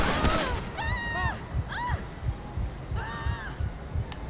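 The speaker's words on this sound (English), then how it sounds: "Go ahead and bring your gun up, and then you should hear a heartbeat." A thudding heartbeat effect from the LSPDFR immersive effects mod for a police video game pulses in a slow, regular rhythm, with a few whistling tonal sweeps and a voice briefly heard near the start.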